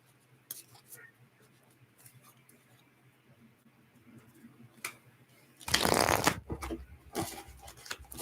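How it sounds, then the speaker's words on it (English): Tarot cards being shuffled during a live reading, faint riffling and light papery taps under soft talk, followed by a louder, denser burst of shuffling partway through. "Let's do one more shuffle here."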